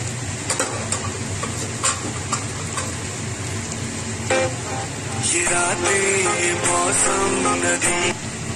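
Close-up sizzling in a pan with repeated scraping and tapping of a utensil as shrimp are fried and stirred, and a brief tonal sound near the end.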